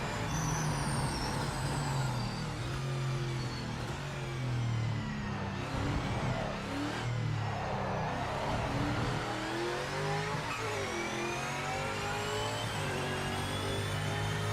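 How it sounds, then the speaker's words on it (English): Hypercar engine in the racing video game Project Motor Racing, a continuous loud whining drone with rising and falling revs and gear shifts, heard alone without talk. "the Hypercar sounds need work"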